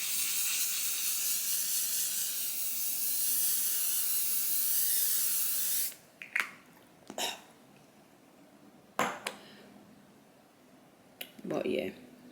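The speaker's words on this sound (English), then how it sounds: "So this isn't the last thing that I use my infallible spray." L'Oréal Infallible makeup setting spray mists out in one long, loud, steady hiss lasting about six seconds, followed by scattered short clicks and breathy bursts close by.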